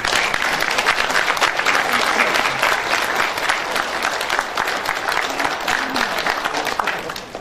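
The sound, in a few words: audience applause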